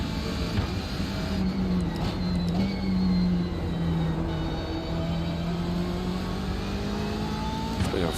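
BMW M8 race cars in the iRacing simulator at Watkins Glen give off a steady, loud engine drone at a sustained pitch, with brief shifts as the cars run close together. No voices are heard.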